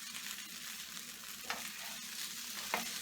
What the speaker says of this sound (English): And then you got the pan sear to it.